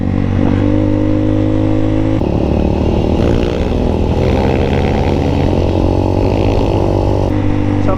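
A motorcycle engine-braking as it rides a rocky river bed trail, a loud, steady droning engine close by with rattling and clatter from the rough ground throughout.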